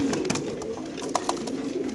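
Racer pigeons in cages at a market, soft cooing and a couple of brief wing or beak taps over a murmuring background, close but fairly quiet.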